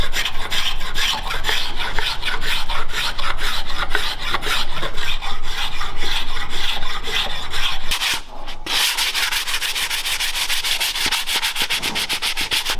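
A rasp worked back and forth over a wooden bow saw handle, loud, close and continuous scraping strokes with one short break partway through.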